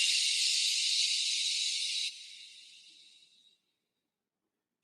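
Exhaling through the mouth while shaping a sh sound, a breathy shushing hiss that holds steady, drops in strength partway, then fades out into silence, close and quiet.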